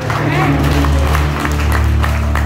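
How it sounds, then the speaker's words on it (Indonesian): A church congregation claps together, a broad dense wash of applause over low steady hum and murmuring voices, loud and close. "Yang percaya kita berikan tepuk tangan"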